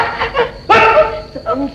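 A dog barks and yelps amid a tense village scene in a 1963 Bhojpuri film, with several sharp close barks mixed under loud shouting voices.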